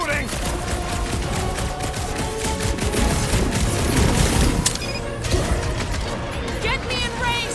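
Gunfire and vehicle driving in the Marvel's Guardians of the Galaxy video game: dense rapid-fire bursts, booms and clanking mechanical whirring fill the scene continuously at high volume.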